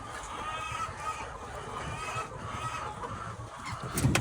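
Laying hens cluck steadily in a poultry shed, a dense chorus of overlapping clucks and soft calls at moderate loudness that grows busier toward the end.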